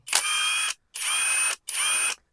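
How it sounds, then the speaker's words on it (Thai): An STR ST770 cordless impact wrench with quiet gears runs in three short close bursts, each a steady hum of under a second separated by brief silences. "คือมันเป็นบล็อกที่เสียงมันนุ่มฮะท่านผู้ชม"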